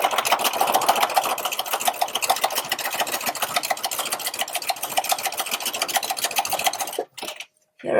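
A sewing machine stitches an appliqué at a short stitch length, running as a steady, rapid close-up whir with fine rhythmic ticking for about seven seconds before stopping briefly.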